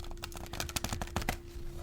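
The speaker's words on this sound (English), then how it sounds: "I'm just going to shuffle the tarot now" Tarot cards being shuffled, soft quick riffling and papery taps in irregular bursts, close and quiet.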